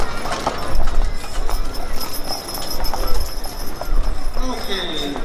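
Clydesdale hooves clip-clop steadily on pavement as the horses pull a carriage in a horse-drawn carriage afternoon parade in Lebanon, Ohio, with crowd noise and voices around them.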